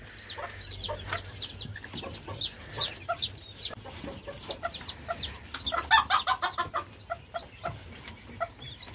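A mother hen and her chicks in a shared cage make close, busy sounds: high peeping from the chicks over soft, low clucks from the hen, in irregular bursts.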